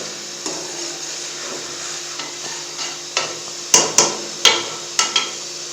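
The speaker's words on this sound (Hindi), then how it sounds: "ये जो होता है ना चावल वाला चमचा सुराखों वाला, वो आपने लेना है, उसके साथ अपने फिश को हिलाना है।" Pieces of fish being turned through a Pakistani-style fish curry with a slotted rice spoon, a low simmering bubble under sharp metallic clanks of spoon on pot that grow louder and more frequent toward the end.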